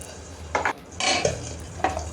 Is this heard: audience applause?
no